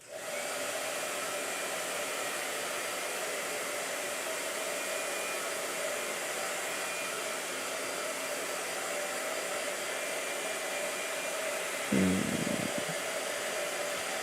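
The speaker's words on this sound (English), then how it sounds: "Blow dryer." A blow dryer runs steadily on a gouache painting, a constant loud close whooshing roar that is briefly disturbed near the end.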